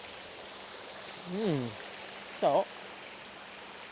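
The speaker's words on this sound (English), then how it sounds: "That is a waterfall at a services." A waterfall at a motorway services gives a steady, broad rushing wash throughout while someone speaks briefly over it.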